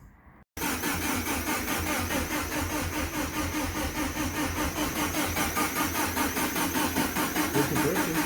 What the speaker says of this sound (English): I can disable injectors and crank it until I get oil pressure